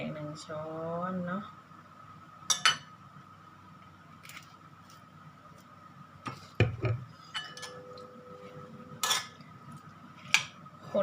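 Ingredients stirred in a bowl for Thai koi pha khi rio, a spicy beef tripe salad seasoned with pla ra, giving scattered clinks and scrapes of a spoon against the bowl under a steady background hum, with someone talking throughout.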